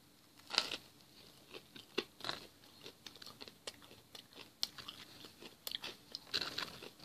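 Close, crunchy chewing and biting of a snack dusted with barbecue seasoning, irregular crisp crunches repeating over several seconds, with no talking.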